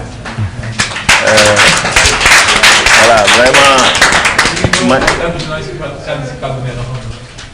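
Clapping from the assembly at an e-sports league election meeting, rising under a voice that keeps talking over it before both fade toward the end.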